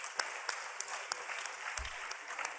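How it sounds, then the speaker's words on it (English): Audience applause at a university forum on human rights, steady dense clapping throughout with a few sharper individual claps standing out; no voices. "Let's give Bernhard a round of applause."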